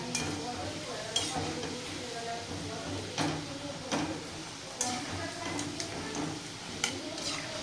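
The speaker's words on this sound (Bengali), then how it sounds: "এই যে এরকমভাবে ভাজা করছি।" Frozen cut pieces fry in a pan with a soft steady sizzle, broken by sharp clicks and scrapes of stirring.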